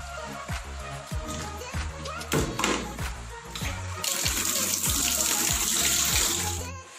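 Tap water pours into a six-liter bucket for a hydroponic nutrient solution, with splashing, knocking handling sounds, and then a steadier, louder gush of filling water.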